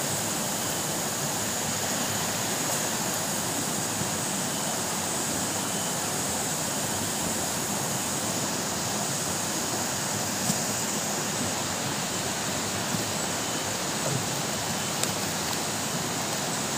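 A river crossed on the way to an abaca farm rushes steadily and loudly, a continuous broad wash of flowing water with no voices.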